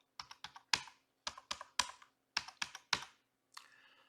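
Someone types a password on a computer keyboard: about a dozen crisp, close keystrokes come in quick clusters of two or three with short pauses between them, then one softer tap at the end.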